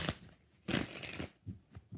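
Tarot cards being shuffled during a reading, giving a few short papery bursts of riffling and slapping, close and fairly quiet, with gaps between.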